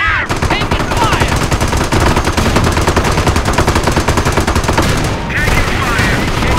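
Dense, loud bursts of rapid machine-gun and rifle fire in the World War II strategy game Company of Heroes, a nearly continuous barrage with a brief lull near the end before firing resumes.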